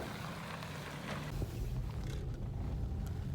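A taxi car in the city pulling away, its engine a low steady rumble that swells slightly as it drives off, heard from inside the cabin.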